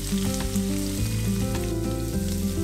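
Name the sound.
chicken breast searing in a pan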